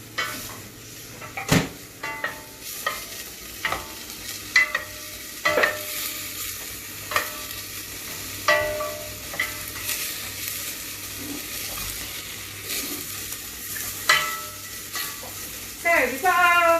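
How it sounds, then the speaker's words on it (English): Onions sizzle steadily in a hot pan, with repeated scraping and clinking of a utensil stirring against the metal. "So we've got our onions frying off."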